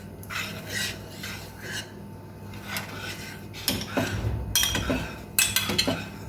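Spoon stirring melting chocolate in a metal pan, repeated scraping and light clinking strokes in an uneven rhythm, close and soft, with no talking.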